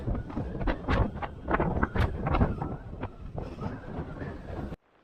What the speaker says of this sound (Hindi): हवा आप भी महसूस कर पा रहे होंगे कि कितनी तेज हवाएं चल रही है इस क्षेत्र में